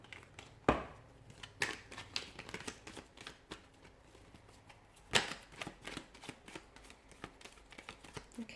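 Tarot cards shuffled by hand for a reading, a steady run of soft riffling and slapping bursts with a few sharper snaps, close and fairly quiet, with no talking.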